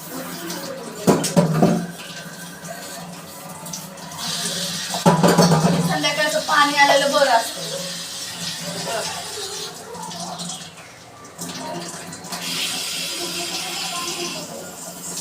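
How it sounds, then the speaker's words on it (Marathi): Dishes scrubbed under running water at a kitchen sink, with a steady hiss of the tap and intermittent clatter and scraping of pots and utensils, loud and close. "भांडे घासते अगोदर"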